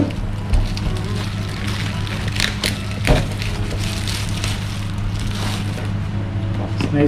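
Cardboard box packaging for a GoPro Hero 8 Black camera being opened, with close crinkly tearing, rustling and a few sharp snaps over a steady low background hum.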